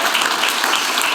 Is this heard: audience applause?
yes